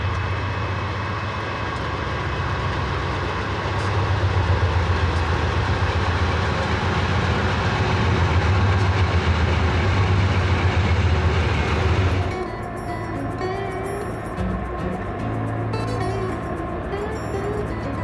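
A high-priority BNSF-style Z freight train detouring near Trout Creek, Montana rolls past with a loud, steady diesel roar and rumbling cars, then cuts abruptly to a quieter grinding of wheels and rail noise.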